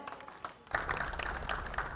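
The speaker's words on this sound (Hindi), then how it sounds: "पुनः हम जोरदार तालियों से उनका स्वागत" Applause breaks out at a Holi-season Hindi kavi sammelan poetry gathering as the audience welcomes the poets, a dense wash of clapping that swells after a brief quieter start and holds steadily near.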